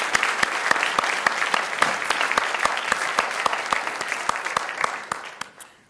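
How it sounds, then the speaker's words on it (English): At a teacher of the year ceremony, an audience applauds two senators with moderately loud clapping and crisp individual claps standing out, fading away near the end. "let's give some applause to Senator Norman and Senator Mason."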